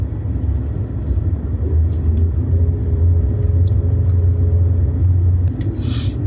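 A Suzuki Jimny crawls downhill in 4L second gear on an icy, slippery mountain road near Hikkim and Komic at -15°C, its engine a steady, low drone with rumbling tyres throughout.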